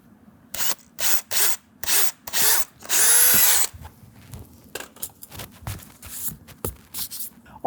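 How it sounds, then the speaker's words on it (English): A power drill whirs in a series of short bursts, then one longer sustained run, drilling holes for mud guards on a 2024 Ford F-150, followed by lighter scraping and handling noises nearby. "So we're gonna go ahead and drill the holes here."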